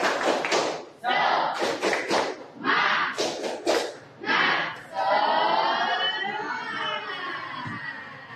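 Students in a classroom doing a rhythmic spirit clap, several sharp group claps in counted bursts, followed by a swell of cheering and crowd noise.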